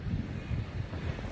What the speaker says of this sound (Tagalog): Ang lakas kasi ng hangin dito.